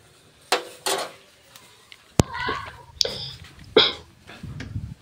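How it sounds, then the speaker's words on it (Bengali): Maggi noodles stirred in a pan to loosen clumps, with a few scattered scrapes and clinks of a utensil against metal, mixed in with nearby voices talking. "এটা হালকা উপরে একটু নাড়া দিব, যেগুলো জট হয়ে গেছে লেগে আছে ওগুলোকে ছাড়িয়ে নেবো"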